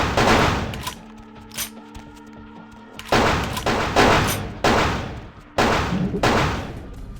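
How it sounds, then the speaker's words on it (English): Gunfire in the Vampire: The Masquerade - Bloodlines video game, a series of sharp loud shots with decaying tails, several in quick succession after a short quieter stretch. "They're shooting him."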